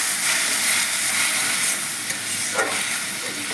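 Garlic sizzling steadily in hot oil in a pan, a continuous close frying hiss with no voices.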